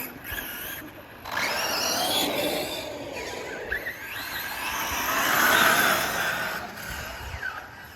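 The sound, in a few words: Arrma RC car driving to warm up its tires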